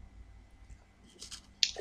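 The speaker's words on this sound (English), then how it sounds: "That's a smooth crunch from the Ritz crackers." Ritz crackers crunched right up against a microphone give a few soft, brief crisp crunches near the end of an otherwise quiet stretch.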